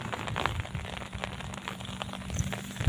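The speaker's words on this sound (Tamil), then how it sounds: "சரியான மழை பெஞ்சிட்ருக்கேங்க." Heavy rain pours down outdoors, a dense steady hiss of drops pattering and crackling on surfaces throughout, moderately loud, with no talking.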